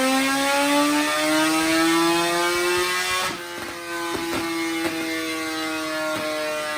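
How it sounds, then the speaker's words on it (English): A Suzuki Hayabusa sport bike with a Brock's exhaust revs up on a dyno, its pitch climbing steadily to a loud, sustained high-rpm wail before settling into a rough, crackling idle. "you gotta love the sound of that Brock's exhaust system"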